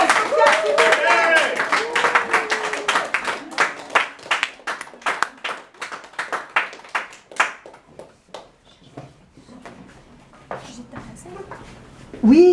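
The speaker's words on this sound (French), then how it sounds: "d'envoyer des applaudissements plein de cœur d'amour à Aïcha et à Sophia" Clapping for Aïcha and her daughter Sophia after a performance at the Petit Ney, a loose burst of hand claps that thins into scattered isolated claps, with voices talking around it near the end.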